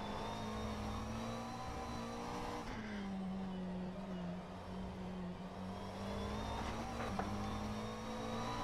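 A McLaren 720S GT3 race car engine in the rFactor 2 racing sim at Sebring, a steady droning hum that dips and rises in pitch as the throttle changes, fairly quiet and continuous throughout.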